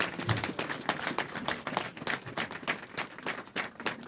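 Audience applause at a formal French-language address, steady scattered clapping heard faint and at a distance.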